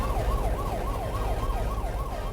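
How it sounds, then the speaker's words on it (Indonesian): An emergency vehicle siren wails steadily in a rapid repeating up-and-down pattern over a low engine rumble, loud and continuous with no voices. "Kendaraan darurat"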